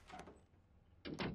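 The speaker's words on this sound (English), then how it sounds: "I just heard a door open." A faint door opening in the horror video game Précipice: a soft brief creak or scrape, a quiet pause, then a slightly louder sliding, rumbling movement near the end, all at low volume.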